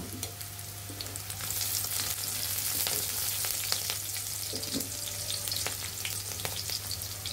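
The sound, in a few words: onion, garlic, green chili and black cumin frying in oil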